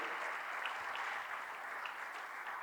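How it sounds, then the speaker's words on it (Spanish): Church congregation clapping steadily during a worship service, a continuous wash of many hands heard at moderate distance, fairly faint and even throughout with no talk over it. "Fuerte, fuerte las palmas para el Cristo de la gloria."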